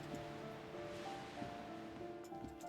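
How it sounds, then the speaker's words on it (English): Waves wash against a shore in the darkness of the Disco Elysium video game, a soft continuous surf under faint, steady musical tones, with no voices. "Waves crashing in the darkness."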